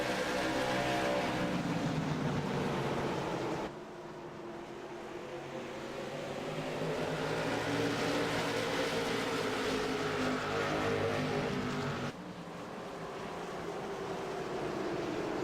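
Stock race cars roar around Myrtle Beach Speedway in a 150-lap race, a continuous loud engine drone rising and falling as the field passes, steady and dense throughout.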